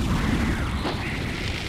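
A Special Beam Cannon attack in Dragon Ball Xenoverse 2 unleashes a loud, dense, roaring energy rush with a rumbling low end, sustained throughout with a brief swell in the middle.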